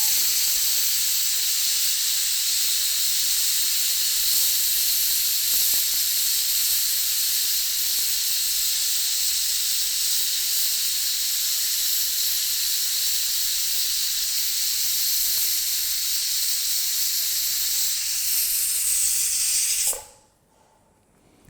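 A pressure cooker releases a loud, steady high hiss of steam for about twenty seconds, then it cuts off abruptly into near silence.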